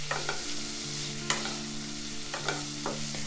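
Capsicum stir-frying in a pan for leftover-rice upma, a steady sizzle punctuated by sharp scraping strokes of a spatula against the pan, close and clear, with a faint hum underneath.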